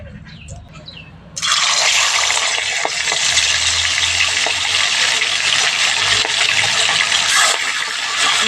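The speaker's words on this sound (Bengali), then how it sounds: "তেল খুব ভালো করে গরম করে নিয়েছি মাছগুলো ভেজে নিচ্ছি" Fish frying in hot mustard oil in a wok: after a quiet start, a loud, sudden sizzle erupts as the fish go in and then holds as a steady, close, hissing crackle.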